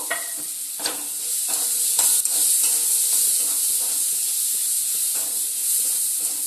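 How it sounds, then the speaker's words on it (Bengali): Fried shrimp being stirred through a spiced masala in a hot pan, a constant loud sizzle and hiss with the scrape of a spatula moving through it, close up and without any talking. "এবার আমি ভেজে রাখা এই যে চিংড়ি মাছটা কিন্তু এই মশলার মধ্যে দিয়ে আরও একবার মশলার সঙ্গে কষিয়ে নেব"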